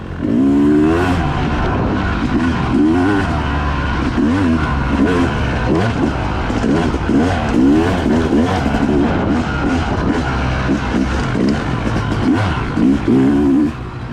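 A Yamaha YZ dirt bike on a trail revs loudly and close, its engine rising and falling in repeated throttle bursts without a break.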